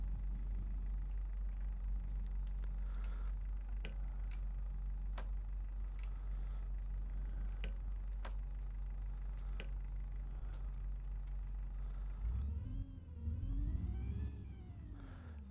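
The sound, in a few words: bus engine running in London Bus Simulator video game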